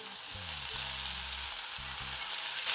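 Chopped brinjal sizzles in a hot pan with onion, green chillies and curry leaves, a steady hissing fry under a low droning tone, with no speech.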